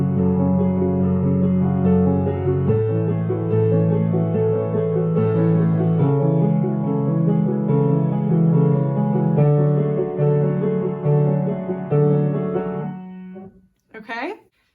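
Solo piano plays the second section of a piece: steady repeated low bass notes under a flowing right-hand pattern, held close and even for about fourteen seconds before the notes stop and a brief breath or voice follows.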